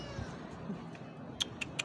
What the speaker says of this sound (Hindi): बिल्ली